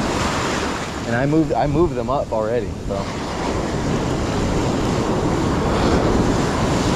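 Ocean waves break and wash up a beach during surf fishing for striped bass, a loud steady roar of surf with wind buffeting the microphone throughout, while someone briefly speaks over it early on.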